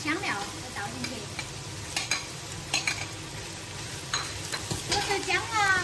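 Beef stir-fried in a wok with ginger, Sichuan peppercorns, chilies and scallions gives a close, steady sizzle broken by repeated rhythmic scrapes and clatters of stirring.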